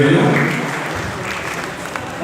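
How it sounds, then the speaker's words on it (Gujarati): An audience at a community hall function claps for a donor of the hall, a steady wash of applause that is fairly loud and fades slightly, with a voice carrying over it. "એમને પણ એક વખત જોરદાર તાળીઓ વધાવી."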